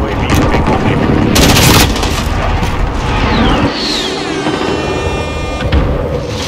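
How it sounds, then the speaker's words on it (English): Precision airstrike explosions in a video game bring loud, dense booms and crackling blasts at close range, with whistling, sweeping tones and a voice in the mix. "Enemy precision airstrike."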